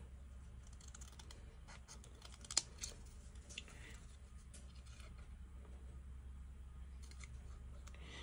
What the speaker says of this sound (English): I'm gonna cut this real quick.